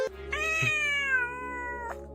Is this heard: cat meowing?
yes